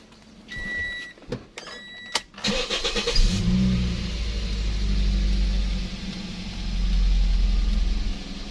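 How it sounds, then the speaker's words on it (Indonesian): A Toyota Vios Limo third-generation sedan, parked during radiator cleaning, starts after a few beeps and clicks, then settles into a close, steady idle, its engine rising and falling as it is revved gently. "Lagi bisa kita tambah gasnya."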